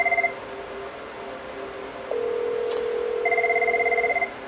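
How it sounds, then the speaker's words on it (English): A desk phone rings nearby, its electronic tone clear and loud in short bursts, with a steady beeping tone holding between the rings. "And then there's the phone ringing in the background"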